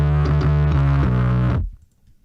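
Heavily distorted bass guitar with effects pedals plays a loud, gritty riff of several sustained notes, then stops abruptly into near silence.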